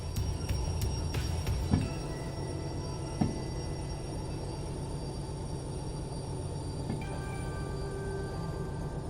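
Heavy DH4 train engine pulling a big load and slowing to a stop: a low steady rumble with faint wheel squeals and a couple of soft clanks, running continuously without talk.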